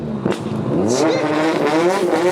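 A 700bhp Nissan Silvia S15 pulls hard in third gear, its engine note climbing steadily in pitch as it accelerates close by, with a sharp burst early on.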